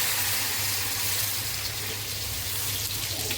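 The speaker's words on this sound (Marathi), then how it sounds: "तर बघा वाटण आपलं शिजवले त्याच्यात मी पाणी टाकते" Water pours in a continuous rushing stream into a cooking pan of fried green spice paste, steady and close, with no talking.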